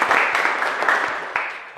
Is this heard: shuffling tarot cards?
no